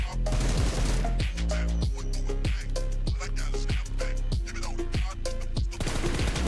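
Gunfire in the video game PUBG at a practice range, a rapid series of loud, sharp shots fired in quick bursts and single cracks, close and continuous throughout with no speech.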